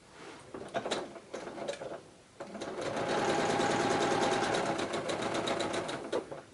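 A sewing machine runs steadily while stitching fabric scraps for a string-pieced quilt block, with a short burst, a brief pause, then a longer continuous whir of the needle, close and moderately loud.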